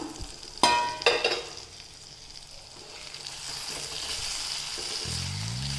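Tomatoes fry with spices in a pan over a gas flame, giving a soft, steady sizzle. A couple of sharp utensil knocks and scrapes from stirring sound near the start, and the sizzle continues at a low level.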